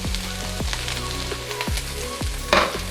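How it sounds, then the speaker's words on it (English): Shrimp dropped into a hot pan with garlic and onions, giving a steady close sizzle of frying with a few scraping clicks from a utensil and a brief louder burst near the end. "you want to add your shrimp"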